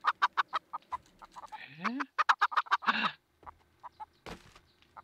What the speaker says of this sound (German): Die Hühnchen füttern.